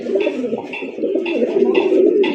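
A male fancy racer pigeon coos loudly and close by in a steady repeating series of soft, throaty calls.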